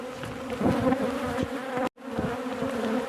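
Honey bees swarm around beehives being inspected, a loud close continuous droning buzz with shifting pitch as insects pass near, briefly cut off before resuming.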